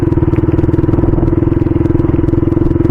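A Yamaha MT-15 motorcycle rides along on a Sunday trip toward Pavagadh, its engine a loud, close, steady throbbing pulse with rough rattling texture.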